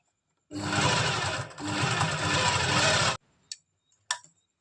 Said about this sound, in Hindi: इस तरह से इलास्टिक को खींचते हुए हम दोनों तरफ से खींचते हुए सिलाई लगा देंगे।